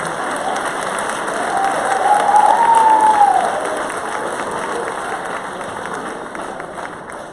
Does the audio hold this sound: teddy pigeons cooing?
no